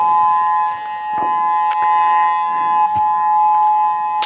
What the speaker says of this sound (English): That's the practice siren that happens on the first Monday of every month